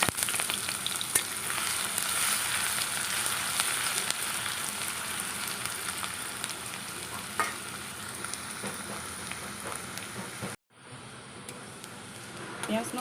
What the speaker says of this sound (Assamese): পিঁয়াজ নহৰুখিনি পকিছে।